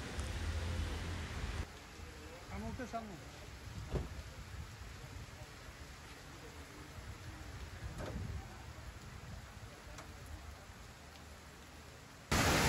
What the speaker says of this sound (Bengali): সকাল থেকে বাইরে কন্টিনিউয়াসলি বৃষ্টি হচ্ছে।